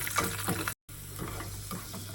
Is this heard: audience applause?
no